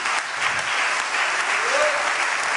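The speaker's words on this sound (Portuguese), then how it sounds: "Você pode dar um forte aplauso ao Senhor por isso?" A church congregation gives strong applause during a sermon, a continuous, dense roar of clapping throughout, with a voice rising faintly beneath it toward the end.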